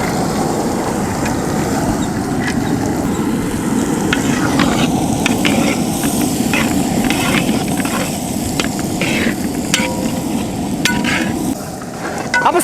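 Onion fries in butter with a loud, dense, close sizzle that runs the whole time, crackling under clinks and scrapes of stirring.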